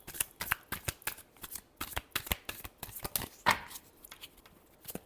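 Tarot cards get a final shuffle: a quick run of crisp riffling and slapping bursts, close and fairly soft, with short pauses between the flurries and no voice over them.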